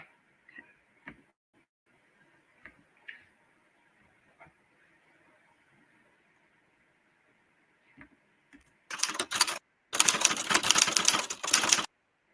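Scattered soft keystrokes tick sparsely at first, then dense bursts of rapid, loud typing on a keyboard dominate the last few seconds, with no voices.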